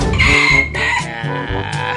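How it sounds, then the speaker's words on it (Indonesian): Berugo chickens cluck and crow loudly and close at hand in a backyard in Bengkulu, a few drawn-out calls filling the short stretch with no talking. "Lagi jagain ayam sekarang itu. Jadi kan Bapak kan punya ayam berugo tuh."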